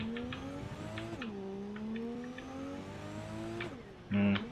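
A car driving in the video game Cyberpunk 2077, its engine tone rising and falling as it accelerates and eases off, ending with a sudden loud, brief rev or skid burst.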